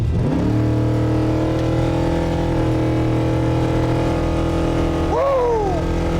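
A 1972 Grand Marquis built to 1,100 horsepower roars loudly and steadily as it accelerates hard, the engine note holding strong, then a sharp rising-and-falling pitch sweep near the end as it shifts or revs through.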